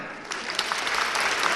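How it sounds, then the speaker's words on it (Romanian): An audience applauds a young child at a children's piano and chamber music event, with steady, dense clapping throughout that swells slightly after a softer start. "Întoarce-te să te aplaude lumea."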